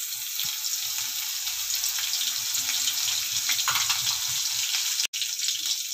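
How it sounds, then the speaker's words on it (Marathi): Chillies frying in a pan for potato bhaji give a steady, close hiss of sizzling oil that continues throughout, broken by one brief dropout, with no voices. "आता मी बटाट्याची भाजी करते, तर त्या भाजीमध्ये आपण ही मिरची टाकूया।"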